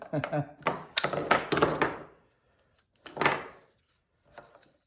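Magnets snapping together on a homemade magnetic phone stand, a few sharp clicks and knocks close to the microphone, mixed in with someone talking.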